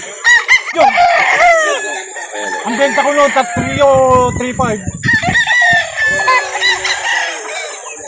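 Several chickens clucking and a rooster crowing nearby, loud and busy, while someone talks over the birds at a chicken market in Calauan, Philippines.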